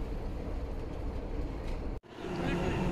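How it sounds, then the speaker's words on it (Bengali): A London Underground train pulls into the platform with a sustained low rumble and rattling hiss, briefly cutting out for an instant before the heavy rolling noise resumes. "এই যে আমাদের ট্রেন চলে আসছে"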